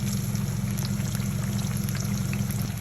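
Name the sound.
kebab frying in oil on medium flame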